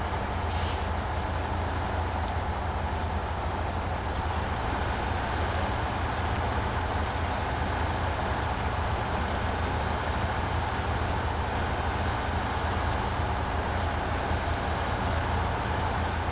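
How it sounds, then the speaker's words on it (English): A heavy truck in the Snowrunner video game strains to drag a trailer through soft mud, giving a steady, loud low engine drone with constant rumble and a brief hiss near the start, no voices. "Come on, truck. Drag that trailer through that muck."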